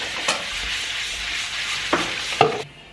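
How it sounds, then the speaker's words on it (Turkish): Grated onion and tomato paste sauté in hot oil in a pot, giving a steady close sizzle broken by a few sharp stirring clinks, with no voices. "Bir soğanı robottan geçirdikten sonra salçayla birlikte yağda kavuruyorum"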